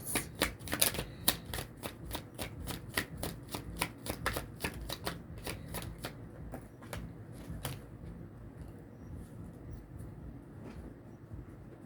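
Oracle cards shuffled by hand in a quick, rapid riffle of crisp slaps and flicks, steady and close, thinning out toward the end with no talking.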